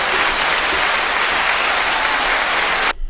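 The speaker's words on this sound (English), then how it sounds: "Hand clap one time." Dense, steady applause from a crowd on a podcast episode, loud and continuous, then cutting off abruptly near the end.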